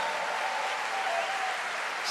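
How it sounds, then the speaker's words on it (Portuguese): An audience applauds to welcome a guest, a dense, steady wash of clapping held at an even level throughout, with no voices over it. "Vamos recebê-la com uma salva de palmas."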